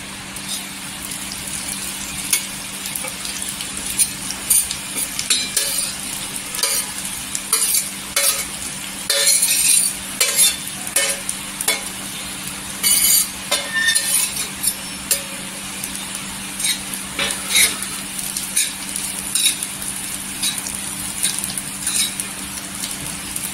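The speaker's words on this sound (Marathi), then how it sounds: "इथे तेल टाकलेलं आहे आणि त्या तेलावर आहे ना सुकटीला एकदम भाजून घ्यायचं" Dried shrimp roast in oil on a griddle with a soft background sizzle, under frequent scraping and clattering stirs of a spatula, close and uneven in rhythm throughout, with no talking.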